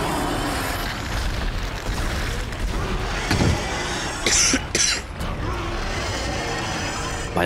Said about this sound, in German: Musste kurz husten.